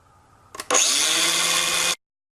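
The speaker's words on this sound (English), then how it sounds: "I've got this little Makita grinder with a cutoff wheel." A small Makita angle grinder with a cutoff wheel bites into an airsoft shotgun barrel, giving a brief clunk before a loud, high, steady whine that runs for over a second and cuts off abruptly, with no talking.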